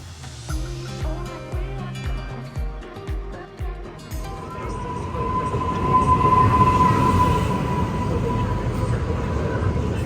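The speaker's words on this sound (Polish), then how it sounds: "Już jedzie nasz pociąg." A PKP Intercity train rolls into a station with rhythmic low wheel thumps that give way to a rising rumble and a steady high squeal of braking, loud and close.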